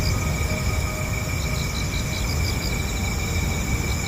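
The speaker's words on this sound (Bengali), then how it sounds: "ঝিঝি পোকার ডাক" Crickets chirp in a night-time scene from a Bengali audio horror drama, with repeated high pulsing trills over a steady, close background hum.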